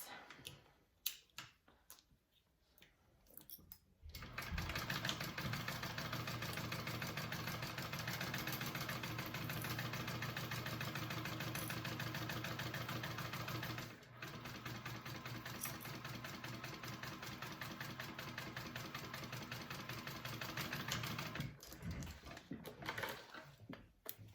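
A sewing machine stitches a 3/8 inch seam on a hobo bag, running in a steady mechanical whir for about ten seconds, pausing briefly, then running again before stopping.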